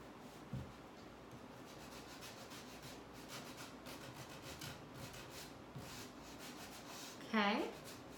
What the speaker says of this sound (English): Just lightly bring that sander in on the edges and just graze right over that line that you draw.